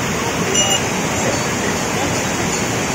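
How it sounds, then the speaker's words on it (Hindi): Heavy rushing water flows past at a flooded Shiva shrine, a loud, constant broadband roar close by that holds steady throughout with no break. "वाह बहुत पानी आसुची"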